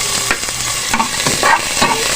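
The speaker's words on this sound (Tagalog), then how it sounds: "Gisa ko lang muna yung sibuyas tsaka bawang." Onion and garlic sautéing in a hot pan give a steady, loud sizzle while being stirred, with soft scraping strokes recurring every half second or so and no talking.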